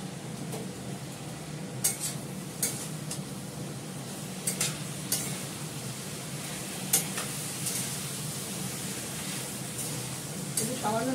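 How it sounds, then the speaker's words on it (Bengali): A vegetable curry with potato and taro is stirred in a pan, with repeated metallic spoon scrapes and clinks against the pan over a steady sizzle, close by and moderately loud. "নেড়ে চেড়ে অল্প একটু জল দিয়ে দেবো"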